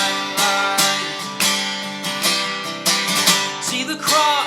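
Bright strummed acoustic guitar plays the bridge of a worship song, with steady rhythmic strums and accented downstrokes, close and loud, with no singing.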